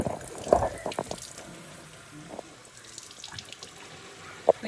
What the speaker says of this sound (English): you need to clean out your milk carton with warm soap and water